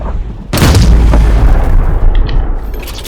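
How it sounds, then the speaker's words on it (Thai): A gun fires in the online shooter Ring of Elysium, one loud booming shot followed by a rumbling tail that fades over a few seconds. "เฮ้ยปืนลั่นเมื่อกี้"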